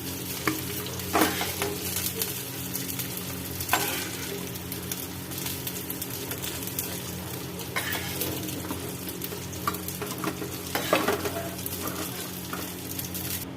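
Okra sizzles steadily as it fries in a pan for dahi bhindi masala, with close spoon scrapes and light metallic clinks from stirring throughout and no voices.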